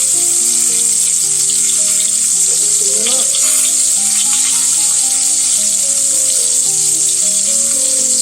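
Thick pork chops sizzling as they fry in a pan, a loud, constant crackling hiss heard up close under background music, with a short bit of voice in the middle.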